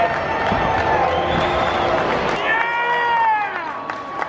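A large crowd roars and cheers continuously through NASCAR driver introductions at Bristol, with an amplified voice carrying over the steady swell of noise.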